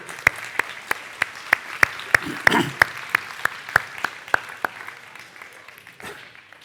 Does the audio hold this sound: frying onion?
no